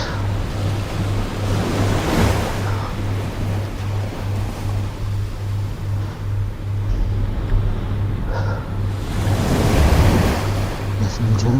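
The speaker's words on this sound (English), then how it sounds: "Listening to the waves." Ocean waves surge and wash in steady broad swells, with a larger crest building near the start and another toward the end, mixed with wind buffeting the microphone.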